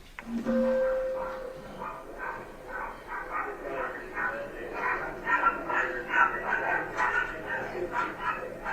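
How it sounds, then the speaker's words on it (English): A dog barks repeatedly on a recording played back in a courtroom, the barks coming in a fairly rapid irregular series over several seconds, moderately loud against room noise. "I mean, a dog barking."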